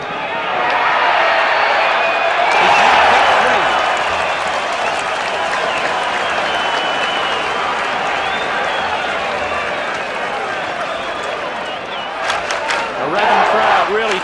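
A big football crowd at a 1980 St Kilda v Essendon match roars and cheers St Kilda on, a loud sustained swell that rises again toward the end, with a commentator talking over it.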